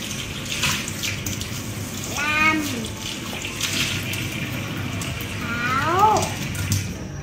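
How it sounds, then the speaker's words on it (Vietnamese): Oranges are washed in running water that splashes and trickles steadily, close by, while an adult and someone talk over it and brief higher-pitched vocal sounds rise above the water. "Bây giờ bác cháu mình sẽ cùng nhau rửa cam nhá"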